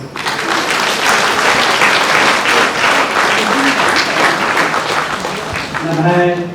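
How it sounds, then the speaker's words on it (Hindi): An audience gives loud, sustained applause at a felicitation after a Kurukh Mass, a thick steady wash of clapping, with a voice speaking over it toward the end. "जोर से ताली बजा"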